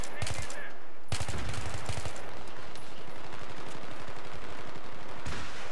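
Rapid machine gun fire in a video game, dense rattling bursts that open sharply, pause briefly and resume, loud and close, with speech faintly mixed in.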